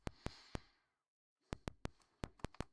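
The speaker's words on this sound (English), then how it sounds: "Just an impulse. Sounds like this." A single impulse played through the Drambu Matrix Rack sounds as sharp, dry clicks in an uneven pattern, broken by a brief silent gap before a faster run of clicks.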